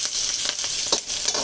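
Snack mixture frying in a pan, a steady close hiss with soft crackling and stirring scrapes throughout.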